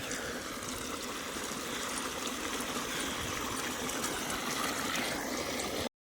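Irrigation water flows steadily into a sorghum field, a soft continuous trickling rush heard fairly faint and alone before cutting off abruptly at the end.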